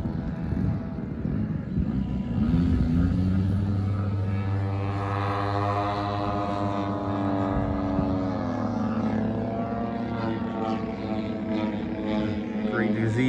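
Aircraft fly at the Nall in the Fall fly-in event, a steady droning engine hum with a rising and falling tonal whine as a plane passes, heard outdoors over quieter background activity throughout.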